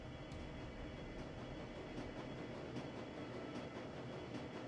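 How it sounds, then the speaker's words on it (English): A train in the video game Shadowrun: Dragonfall rumbles steadily on its track with faint rhythmic wheel clicks and a dense, even rattle, heard quietly and without talk. "The rattle of wheel on track gives way to a shimmying screech. Gradually, the train begins to slow."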